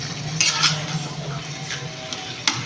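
Onions frying for Chittagong-style mezbani beef: a steady sizzle in a pot with a metal spoon scraping and clinking against it every so often, close and fairly loud.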